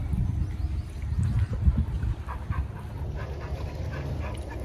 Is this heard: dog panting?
yes